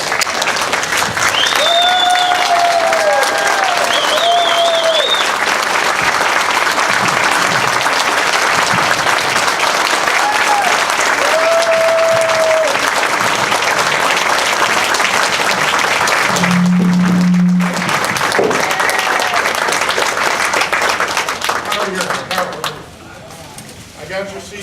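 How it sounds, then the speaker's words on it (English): A convention audience applauds, sustained loud clapping from a large crowd that fills the space, with scattered whistles and cheers over it, a brief low tone midway, and the applause tapering off at the end. "Please stand and let's give him a round of applause."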